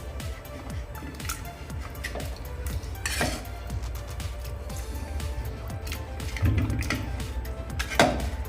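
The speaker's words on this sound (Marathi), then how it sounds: "मॅश करून झाले आहे भाजी" Cooked chakvat greens with peanuts being mashed in a pot, a rhythmic run of soft thuds and scrapes with an occasional metal clink, close by and without speech.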